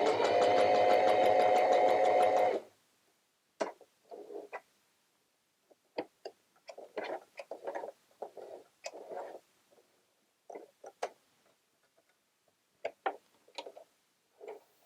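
A Singer Heavy Duty sewing machine zigzag-stitching a button on runs with a close, steady mechanical whirr for a couple of seconds, then gives way to scattered quiet clicks and taps of handling and adjustment.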